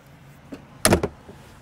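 A door on a 2023 Newmar Supreme Aire 4509 motorhome swings shut with little effort, making one firm close and a short rattle just after. It is near, fairly loud and on its own.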